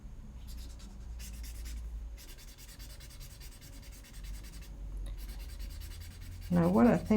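Pencil shading on paper makes soft, steady scratchy strokes in repeated bursts separated by short pauses. A brief voice comes in at the very end.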